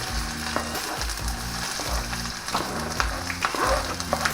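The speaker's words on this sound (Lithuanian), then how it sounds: "Čia mes uždėsim pakepinti svogūnėlių." Onions sizzle steadily in a hot pan, with occasional stirring scrapes and a low rhythmic hum underneath.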